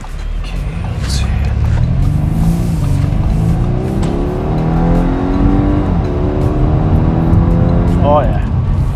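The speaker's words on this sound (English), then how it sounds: "It's always willing to engage and take the car to redline in dynamic mode" A 2020 Audi A5 Sportback engine pulls steadily as the car accelerates, a continuous rising drone with climbing harmonics heard from inside the cabin, with a short squeal-like sweep near the end.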